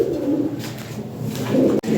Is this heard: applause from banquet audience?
no